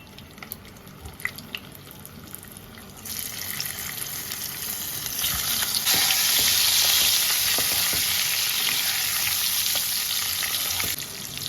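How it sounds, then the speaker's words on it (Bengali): Potatoes frying in a pan for egg masala khichuri give a steady sizzle that grows louder and fuller halfway through, close and continuous, with no talking. "এবার আলুগুলো ভেজে নেব"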